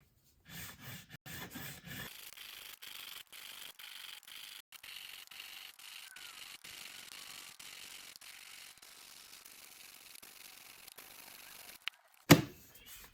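A file crowning the frets on a Squier Bullet Stratocaster guitar: steady, close rasping strokes repeat in a fast, even rhythm for several seconds, ending in a sharp clack.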